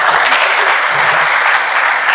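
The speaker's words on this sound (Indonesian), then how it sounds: "Tepuk tangan dulu untuk kita." A congregation at a church worship service claps steadily and loudly throughout, dense applause filling the whole moment without a break.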